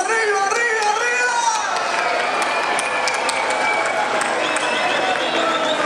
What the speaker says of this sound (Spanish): todos, todos, fuerte el aplauso